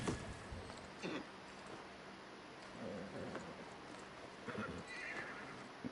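A horse mount in the video game New World whinnies and neighs amid clip-clopping hoofbeats, several distinct calls spread across a moderately loud, close game soundscape.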